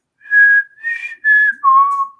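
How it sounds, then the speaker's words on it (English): Loud whistling in four drawn-out, wavering phrases, each note sliding slightly in pitch, the last dropping lower and trailing off, heard clearly with no talk over it. "That was an awful whistling."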